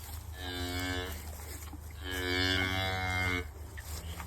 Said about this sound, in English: looks like all the cows are going out as soon as I open the gate